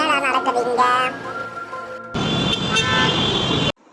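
Car horns honking in stalled morning city traffic, sustained harmonic toots layered over engine and road noise, loud and close, with a second long blaring horn near the end.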